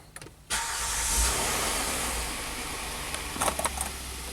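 A Hyundai with a high-idle fault cranks and starts after a brief quiet moment, settling into a steady, moderately loud idle, with a few light clicks and rattles near the end.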